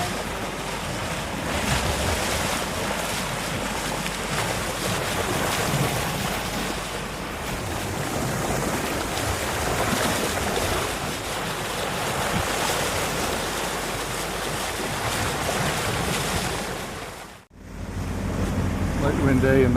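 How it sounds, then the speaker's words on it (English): Sailboat Talisman motoring through waves on the Irish Sea on a light-wind day, with steady wash of water and wind buffeting the microphone and a low hull and engine rumble, continuous and close until a brief cutoff near the end. "We're just motoring along."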